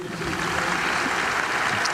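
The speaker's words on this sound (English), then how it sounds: "Let's have a round of applause for these people" Audience applause for faculty at a university commencement ceremony, a steady broad wash of clapping from a large crowd, sustained and fairly loud throughout.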